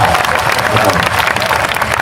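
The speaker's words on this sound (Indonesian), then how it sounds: "Ayo tepuk tangan semua." A crowd applauds steadily at a Tadabbur Urip gathering with Emha Ainun Najib (Cak Nun), a dense, continuous wash of clapping close by with voices mixed in.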